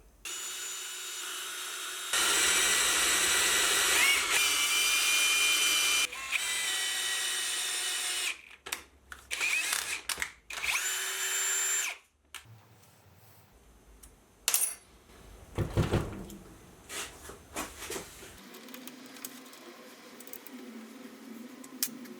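A power drill drives screws into a bracket on a lathe, with several loud sustained whirring bursts, each cutting off sharply, followed by clattering, tapping and handling of metal parts nearby.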